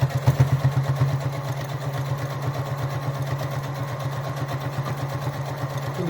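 A sewing machine runs steadily, stitching folded binding onto a fabric face mask. The motor gives off a continuous rapid, even chatter that is close and fairly loud, with no talk over it.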